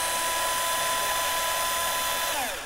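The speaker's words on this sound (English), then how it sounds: "You keep both hands on the drill." An electric drill bores a hole in wood for a birdhouse, giving a steady, loud, high whine that winds down at the end.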